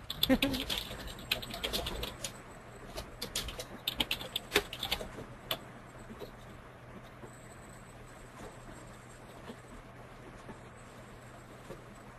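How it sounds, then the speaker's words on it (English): Quiet keyboard typing clicks from a webinar participant's open microphone come in irregular bursts, dense at first then thinning out, faint and somewhat distant with a low steady hum underneath. "I can hear you typing, I believe."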